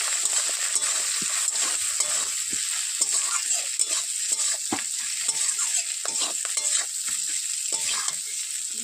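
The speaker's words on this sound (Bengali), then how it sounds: "এবার একটু নেড়ে চেড়ে দেবো" Spiced vegetables seasoned with turmeric and chilli powder are stirred in a hot pan, giving a continuous soft sizzle of frying broken by irregular scraping and clattering stirs.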